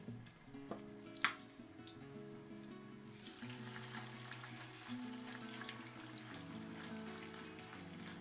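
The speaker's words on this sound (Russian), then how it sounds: "Вот так я жарю котлетки" Homemade meat cutlets fry in a pan with a quiet, steady sizzle and crackle, with a sharp clack of a utensil early on and faint kitchen sounds.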